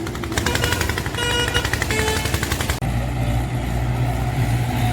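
Mahindra 585 DI tractor engine running loud and close, with a hard rapid diesel clatter that shifts to a steadier, deeper rumble midway.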